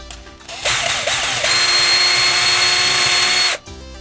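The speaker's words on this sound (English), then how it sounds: "gonna go get my drill bit, drill that out" A power drill whirs loudly and steadily for about three seconds, rising slightly in pitch partway through, then cuts off abruptly.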